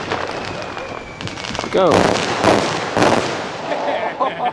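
A 4-inch canister firework shell with timed reports launches outdoors with a loud whooshing lift, followed by several sharp bursts over about three seconds, and a voice calls out briefly.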